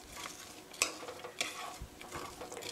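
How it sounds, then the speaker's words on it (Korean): Onion and garlic stir-fried in a pan, a steady sizzle broken by irregular scraping and clacking strokes of a utensil against the pan, close and moderately quiet, with no talking. "양파가 투명해질 때까지 볶아주세요"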